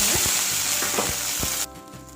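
Tomatoes and fenugreek leaves frying in a pan for a chutney, a loud dense sizzle with a few soft stirring knocks that suddenly drops away near the end.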